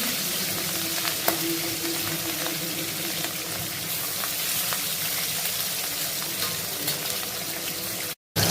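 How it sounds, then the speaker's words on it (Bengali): Katla fish frying in hot oil in a pan: a loud, dense, steady sizzle and crackle with scattered pops, holding evenly for about eight seconds before a brief cut at the very end. "তেল গরম হয়ে গেছে, তেলটা গরম হয়ে গেছে, বুঝলে? এবার আমি মাছ দিয়ে দেবো, মাছগুলো দিয়ে দিচ্ছি।"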